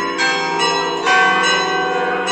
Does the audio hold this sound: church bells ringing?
yes